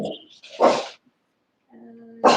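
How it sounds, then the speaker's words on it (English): Dogs bark indoors in a few sharp, close bursts, with a short whine or whimper between them and a pause of near silence before a final loud bark. "Hush dogs."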